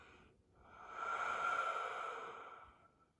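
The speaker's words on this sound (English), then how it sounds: "I pause just a moment, and then a slowish exhale." A single slow exhale during a breathing exercise, a soft airy breath that swells gradually, holds, then fades out over a few seconds, close and quiet with no talk.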